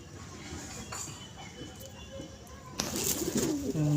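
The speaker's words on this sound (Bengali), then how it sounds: "এই হলো আরেকটি মাদি পায়রা" A female pigeon coos softly in a home loft, low murmuring calls against quiet background noise, followed by a louder burst of nearby sound near the end.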